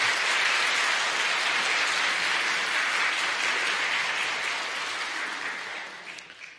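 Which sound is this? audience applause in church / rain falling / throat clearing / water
audience applause in church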